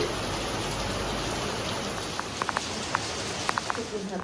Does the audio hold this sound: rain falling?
yes